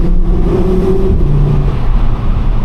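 A 2014 Audi RS Q3 with a 310 hp engine gives a loud, close, continuous low rumble that stays steady and throaty, with a slight rise and fall in pitch and no speech over it.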